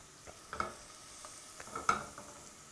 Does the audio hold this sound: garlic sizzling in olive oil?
yes